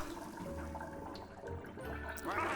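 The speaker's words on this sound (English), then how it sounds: "we can also loosen this valve and stop the water flow" Water flowing from a valve in the video game Luigi's Mansion 3, a soft gurgling, sloshing flow with bubbly splashes, low and steady and fairly faint throughout.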